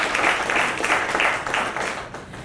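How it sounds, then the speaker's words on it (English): Steady crowd applause fills a health care enrollment kick-off event, a dense continuous patter of many hands clapping at moderate volume that slowly eases off toward the end. "So give yourselves a round of applause."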